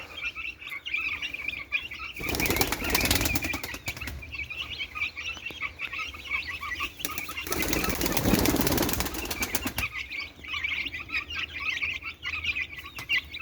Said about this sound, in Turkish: güvercinlerimize de buğday veriyoruz.